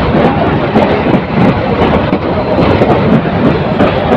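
The Titas Commuter train rumbles past the Kamalapur railway workshop and loco shed near Dhaka, a loud continuous roar of wheels and carriages with rattling clatter, steady throughout and close.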